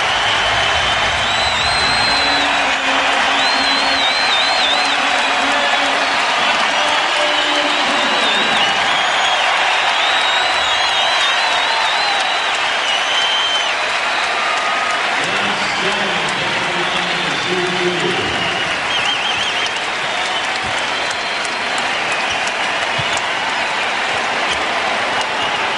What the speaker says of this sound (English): A whole building standing and cheering.